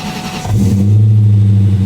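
A 2004 SVT Cobra Mustang running on E85 cold-starts loudly and close by: a brief priming whir, then the engine catches about halfway through and settles into a strong, steady low rumble.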